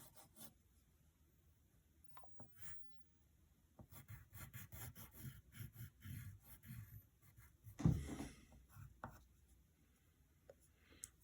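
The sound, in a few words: pencil drawing a cartoon arm on paper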